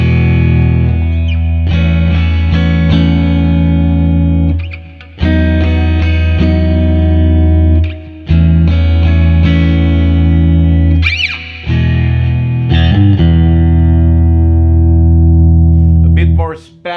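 Harley Benton TE 20 electric guitar played through both pickups in the middle position, ringing sustained chords and notes with short breaks between phrases, loud and close with no talk over it.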